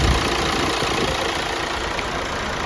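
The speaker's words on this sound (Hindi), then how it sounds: "इन द मीनवाइल हमारी इंजन चालू है" A Hyundai Creta diesel automatic engine idling during a service, a steady close mechanical hum and light ticking that runs unbroken with no talk.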